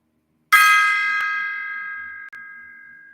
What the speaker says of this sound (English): How does the gong sound?